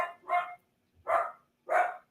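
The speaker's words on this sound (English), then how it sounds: "Sorry for my barking dog." A dog barks three times in separate, evenly spaced bursts, close and fairly loud, in an indoor room during a live broadcast. No one speaks.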